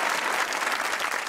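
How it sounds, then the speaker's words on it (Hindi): A studio audience at a comedy talk show breaks into brisk applause, a short dense burst of clapping that fills the whole moment. "ताली होनी चाहिए हॉकी के लिए।"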